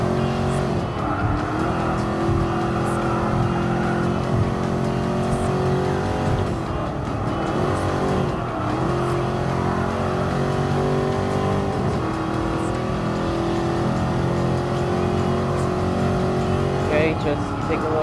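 A racing car engine in Gran Turismo Sport at a nostalgic car festival event roars steadily, shifting pitch through gear changes with occasional tire squeal, while a person talks over it throughout.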